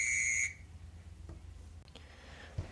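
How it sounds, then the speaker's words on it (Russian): A whistle for a trail race through the Tierra de Osos area near Mariano Acosta, Ecuador, gives one loud, shrill, steady blast of about half a second and then cuts off, leaving faint room noise with a few small knocks. "Я свисток не покупал, у меня будет такой."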